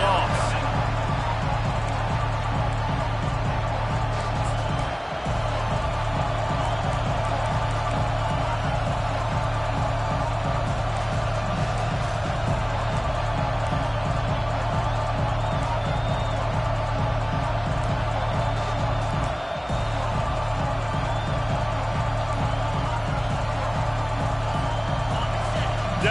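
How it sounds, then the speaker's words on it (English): A football stadium crowd roars without a break through a defensive third down, a dense, steady wall of cheering that barely swells or fades across the stretch. "Decibels rising as the crowd gets behind this defense on 3rd down."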